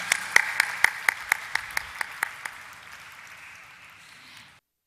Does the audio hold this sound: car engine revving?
no